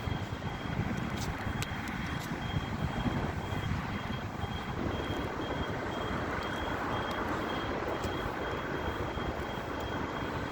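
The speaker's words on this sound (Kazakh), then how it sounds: "Қаланың тіршілігі күнделікті, машиналардың қозғалысы." Everyday city street traffic in the Batys-2 district of Aktobe, Kazakhstan: a steady wash of passing car and engine noise, with a truck's faint, regular reversing beeps pulsing through it. No one speaks.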